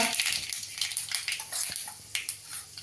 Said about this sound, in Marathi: तेल गरम झालंय आता त्यात मोहरी घालते